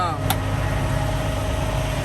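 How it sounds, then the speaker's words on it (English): A semi truck engine idles at high RPM with a steady, loud mechanical drone and a brief click near the start, while someone talks over it. "I'm idling at a high RPM right now because the truck has been sitting for a while"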